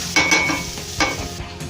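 Garlic and ginger frying in a hot pan are stirred, giving a loud close sizzle with a few sharp scraping strokes of the spoon.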